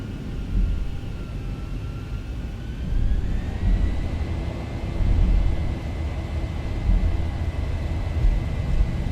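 Airliner jet engines in X-Plane spool up to takeoff thrust for departure from Helsinki, a steady broadband roar with rising tonal whine that climbs in pitch and loudness, held continuous with no talk.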